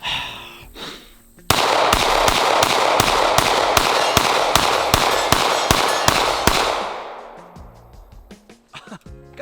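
Rapid automatic fire from a Mark 18 rifle in the tactical shooter game Ready Or Not: a loud, sustained burst of sharp, evenly spaced shots lasting several seconds, then a scatter of quieter, fading reports and mechanical clicks.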